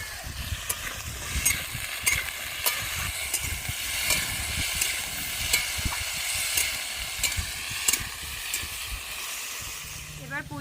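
Potatoes fry in a pan with salt added, giving a steady close sizzle broken by repeated scraping stirs and occasional utensil clinks.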